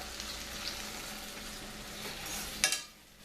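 Tomatoes sizzle in hot oil while being stirred in a pan, a steady close frying hiss with a brief scraping clatter of the spoon near the end.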